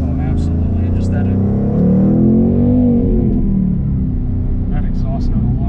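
A 2019 Ford Mustang Bullitt V8 rumbles with a deep exhaust note, swelling briefly in a rev before settling back to a steady idle, loud and close, while people talk over it.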